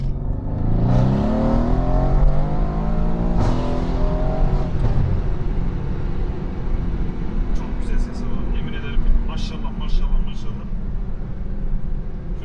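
A Mercedes-AMG C63 S engine with catless downpipes revs and accelerates loudly with deep exhaust burble, rising pitch sweeps, then crackles and pops as it settles.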